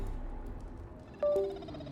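A short two-tone phone alert sounds once near the middle, clear and fairly close, over a quiet low background hum.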